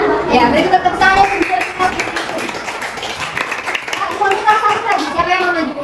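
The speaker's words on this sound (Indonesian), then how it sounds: "beri tepuk tangan" Classroom applause for primary school pupils in a combined grade 4 class, several seconds of brisk clapping from many children, with voices mixed in over it.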